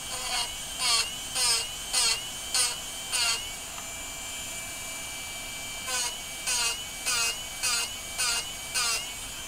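A Darex Drill Doctor 750X sharpens a drill bit by plunging, giving repeated short high-pitched grinding buzzes in two bursts of about six strokes each, separated by a quiet pause, with no talk.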